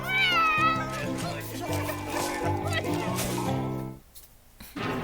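A cat meows in a long, drawn-out, whining caterwaul that sustains for several seconds, loud and close, then breaks off into quieter rustles.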